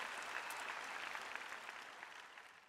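An audience at a Christian sermon claps steadily, a dense, even patter of many hands heard faintly at low volume throughout the short stretch.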